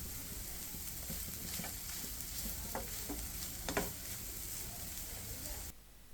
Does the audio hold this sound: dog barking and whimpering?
no